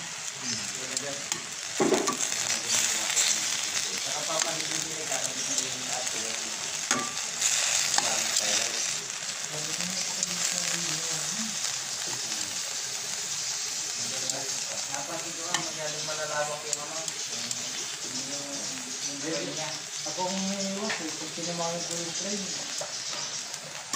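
Food browning in a pan, a continuous bright sizzle with recurring scraping stirs, close and steady while a person talks over it.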